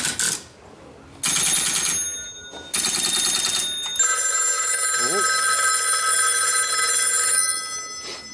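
An old telephone bell rings loudly in long, buzzing bursts, separated by short pauses, with a brief spoken exclamation partway through, at an engine and tractor show in Bracebridge, Ontario.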